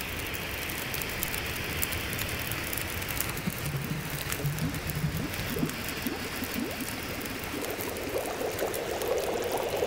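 Steady bubbling of water at a boil with a constant hiss in the video game The Long Dark, alone and moderately loud, no voices.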